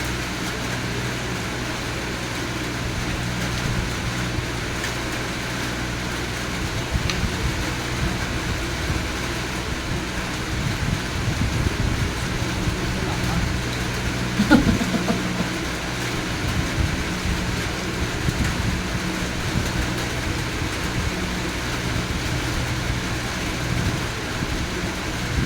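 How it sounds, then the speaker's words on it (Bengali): Steady rain falling outdoors mixed with the continuous whir of an electric ceiling fan indoors, a constant broadband hiss and low hum throughout with no talking. "বাইরে বৃষ্টি হচ্ছে, পাখার আওয়াজ সব মিলিয়ে একটু আওয়াজ হতে পারে"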